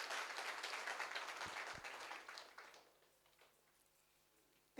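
Applause from an audience at a business motivational talk, a dense wash of clapping that is loud at first, then thins and fades over several seconds until only scattered claps remain.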